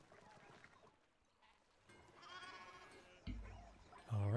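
Sheep bleating in the video game Pentiment, a few short bleats rising out of quiet game ambience near the end, over a soft background bed.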